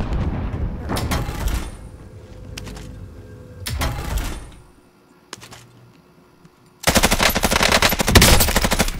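Automatic weapon fire in Call of Duty: Modern Warfare rips out in several sharp, loud bursts separated by quieter gaps, with a longer sustained burst at the end.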